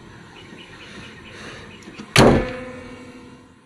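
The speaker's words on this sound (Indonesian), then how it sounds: "kalau nutup mobil ini itu juga harus ya, emang harus agak dibanting, jadi biar langsung nutup, karena nggak boleh ditekan" A single loud, close slam of the hood of a 2010 Chevrolet Captiva Prime 2.0 diesel, dropped firmly shut, with a sharp thud that rings briefly before fading, following a quiet stretch of faint handling noise.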